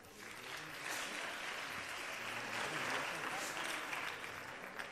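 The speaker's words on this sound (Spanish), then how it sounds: "Igualmente, saludamos con otro aplauso a la consejera de Educación, Cultura y Juventud, Pilar Orozco Valverde." An audience at a choir and carol competition claps in sustained applause that swells slightly midway, with voices faintly mixed into the crowd noise.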